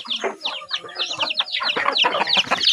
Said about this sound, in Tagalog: mao ni tanan niya mga piso